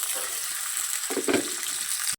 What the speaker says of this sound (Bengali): কড়াইটা গরম হয়ে গেছে, এবার ডিমগুলো আমি ভেজে নেব।